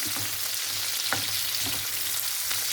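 Sausages and peppers fry in a covered pan, a continuous close crackling sizzle with occasional louder pops and no voices.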